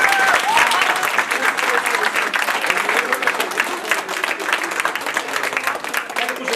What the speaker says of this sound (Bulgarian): Приятели, аплодисменти за това.